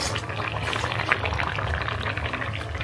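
Curry bubbles and simmers in a pot during home cooking, a steady close wet bubbling and gurgling with soft popping, continuous and moderately loud throughout.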